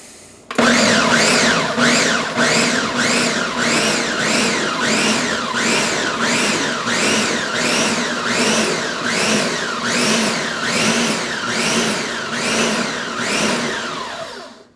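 A kitchen blender runs loudly and continuously, its motor whine rising and falling in a fast, regular surge for over a dozen seconds before stopping.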